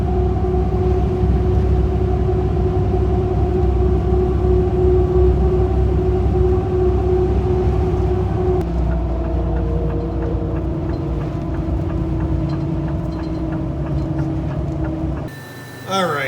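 A truck droning steadily along the road with a constant low engine hum and road noise, shifting slightly in tone partway through; a brief clunk near the end.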